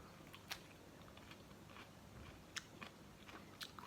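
Crisp bites and crunching chews of firm snake fruit (salak), a palm fruit, with sharp cracks recurring every second or so over quiet, close mouth noise.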